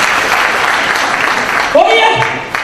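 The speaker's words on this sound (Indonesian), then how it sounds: "Mari kita tepuk tangan." An audience claps together, a continuous rustle of hands that fades after a couple of seconds as a voice rises over it and keeps talking.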